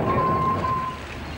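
Fishing trawler off Cochin, India, its engine and winch hoisting a trawl net: a low mechanical rumble close by with a thin whining tone over the first second, no voices.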